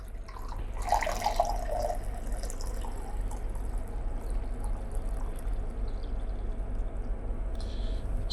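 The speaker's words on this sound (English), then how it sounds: "So we're pouring out the developer water, making sure we're still at that 800 milliliter mark." Developer water poured out of a container while mixing film-developing chemicals, a steady liquid trickle and splash running throughout with a brief heavier gush near the start.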